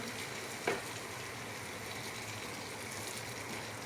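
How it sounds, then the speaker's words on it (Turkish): Hot water poured into a hot pan of bulgur and spinach gives a steady, moderately quiet hiss and gush, with one brief sharper splash near the start and no voices. "Sıcak suyumu ekliyorum."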